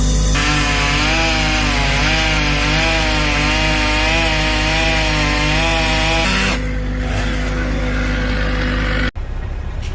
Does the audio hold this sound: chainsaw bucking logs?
yes